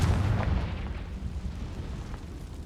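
A Confringo blasting spell in Hogwarts Legacy goes off as a loud, close explosion with a broad roaring burst, then a rumbling decay that fades over a few seconds.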